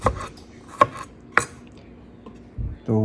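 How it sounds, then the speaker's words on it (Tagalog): Knife chopping ingredients on a cutting board while cooking paksiw na isda, three sharp distinct chops spaced apart, then a brief low clatter near the end. "Chopping"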